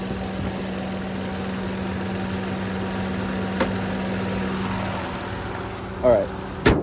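A 2021 Mitsubishi Mirage idles with its hood open, giving a steady, fairly loud engine hum with a buzzy intake note, and a few brief knocks near the end.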